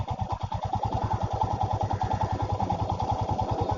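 A Royal Enfield Himalayan BS6 motorcycle engine thumps in a steady, rapid single-cylinder pulse at close range as the bike bogs down in soft beach sand, loud and continuous with no talking.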